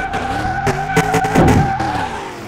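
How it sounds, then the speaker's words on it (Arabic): Car skidding under handbrake in a mechanic simulator video game: loud tire squeal over engine drone, several screeching bursts across the clip with a strong sustained skid near the middle. "نجرب هاند بريك هنا."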